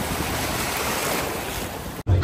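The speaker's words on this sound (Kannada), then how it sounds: "So this is our boat, let's go." A boat sets off on the sea near the Nethrani islands off Murudeshwara, Karnataka, with loud continuous rushing of water and wind noise filling the scene until a brief dropout near the end.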